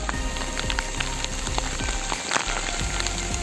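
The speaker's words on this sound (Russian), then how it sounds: "О, град пошел." Hail drumming steadily outdoors at a wartime relic dig site in Russia, a dense close patter with scattered sharper impacts throughout.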